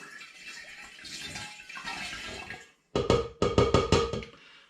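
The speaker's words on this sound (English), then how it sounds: "So I'm just going to pour my apple juice" Apple juice pours steadily through a funnel with a soft gurgle, then after a brief gap comes a choppier run of glugging splashes, close and fairly loud.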